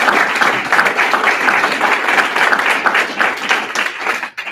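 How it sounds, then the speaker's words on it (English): Audience at an Optimist Club Veterans Day gathering applauding honored Air Force and Army veterans, a sustained, even wash of many hands clapping that tapers off at the very end. "So let's give them all a round of applause."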